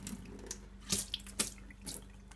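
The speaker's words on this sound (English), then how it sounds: "drain the water" Rinse water draining from a batch of alfalfa sprouts at a kitchen sink, a steady watery trickle with a few splashy surges and drips, close and fairly soft.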